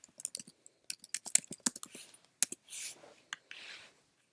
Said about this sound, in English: So you can type in the type of domain that you want here.